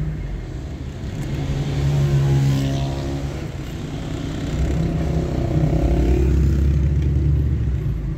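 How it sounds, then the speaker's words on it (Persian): Road traffic near the Juybar Friday market in Iran, with car and motorcycle engines rumbling and revving steadily at close range, a continuous busy flow with no talk. "ببینید ترافیک"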